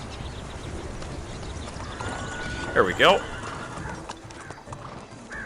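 Horses in a medieval city-building strategy game, A Time of Gods & Generals: a soft clip-clop of hooves and a brief whinny under steady ambient game sound, with someone speaking briefly.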